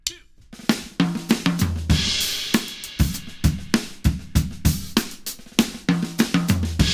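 A drum kit plays a busy fill of rapid, evenly spaced hits, snare and toms cracking with cymbal wash, loud and close.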